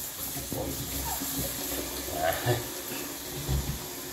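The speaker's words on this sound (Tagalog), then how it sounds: "hugasan natin yung mga gulay para sa ating sinigang" Vegetables for pork sinigang being rinsed in water, with a low steady wash of running or splashing water and a few brief clunks and splashes, heard close by with no talk over it.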